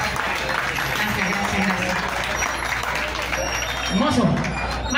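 Audience applauding singers at a criollo music show at La Casona Criolla in Altagracia de Orituco, a steady wash of clapping throughout, with voices and some musical tones underneath.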